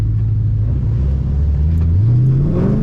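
A Mustang, 3-valve or 5.0 Coyote, revs up on a wet street while drifting, its loud, close engine note climbing steadily in pitch over a constant rumble.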